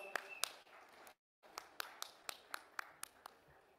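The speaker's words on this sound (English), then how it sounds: "Let's give them a big, big round of applause." At a televised awards ceremony, a handful of separate claps ring out at a steady rhythm after a short gap, sparse and close rather than a full crowd.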